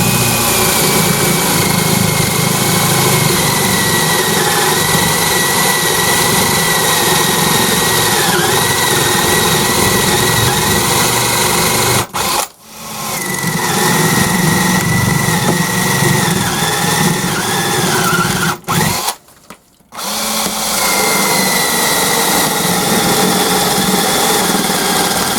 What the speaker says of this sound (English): what I'm going to do is at 4 points drill